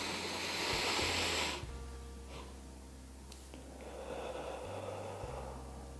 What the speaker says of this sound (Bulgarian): дълбоко вдишване, допълнително вдишване и дълбоко и дълго издишване